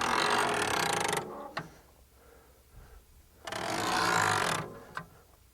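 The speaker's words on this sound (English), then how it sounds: "To stow away the rack, we'll go ahead and close the wheel arches." Wheel arches on a QuietKat 1up bike rack fold shut with loud mechanical ratcheting and clanking, two bursts about two seconds apart, close by and with no voices.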